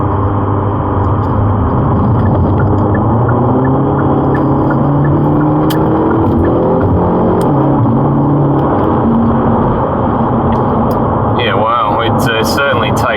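A Hyundai i30 Sedan N accelerates onto a freeway from a rolling start, its engine a loud, steady low drone heard from inside the cabin beneath someone talking.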